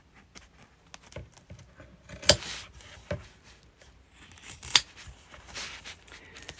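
Scissors snip through fabric for a beginner's zipper pouch, making a few quiet, scattered cuts with soft rustling in between and no talking.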